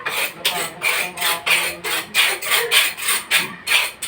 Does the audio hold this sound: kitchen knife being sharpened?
yes